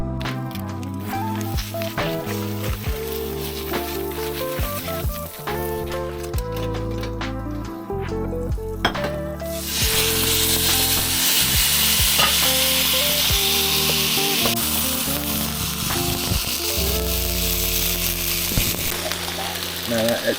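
Freshly caught Marlborough seafood, a fish with roe, hits a hot frying pan. For the first half, tonal sounds and light handling noises play; then a loud, continuous hiss of sizzling takes over.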